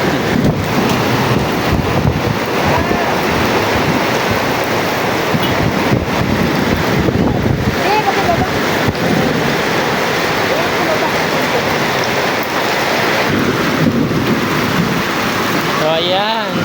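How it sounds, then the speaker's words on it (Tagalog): Heavy rain falling during a wet-season downpour, a dense, continuous roar of water close by, with wind buffeting the microphone throughout. "Lumakas na ang ulan."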